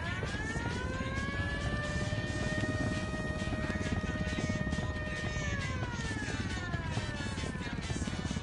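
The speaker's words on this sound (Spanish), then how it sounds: "Un helicóptero, abajo." A helicopter passes overhead with a steady loud rotor and engine drone, its whining tone rising and sweeping slightly as it moves, continuous throughout with no talk.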